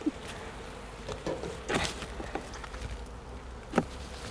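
Honeybees swarm around a backyard hive that has just been smoked, a steady close buzzing drone with individual insects whizzing past and a few light knocks and handling noises.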